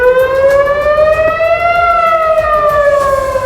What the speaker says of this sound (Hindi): वहां अचानक हमले की चेतावनी के सायरन भी बजने लगे